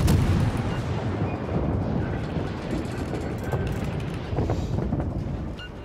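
Heavy naval guns boom repeatedly from a warship in World of Warships, deep rumbling blasts rolling into one another over a continuous low roar, with a sharper report near the end.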